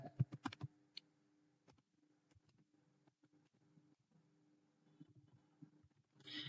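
Quiet keystrokes on a computer keyboard as a vehicle registration number is typed: a quick burst of clicks at the start, then sparse, scattered taps.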